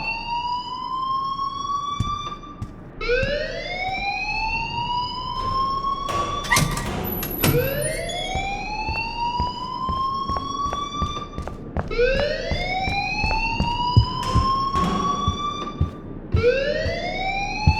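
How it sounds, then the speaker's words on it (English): Loud rising-and-falling siren-like alarm wailing repeatedly in the Life is Strange video game, sweeping upward in cycles every few seconds with sharp clanks and noises mixed in, no talking. "please turn off that alarm since that's your job"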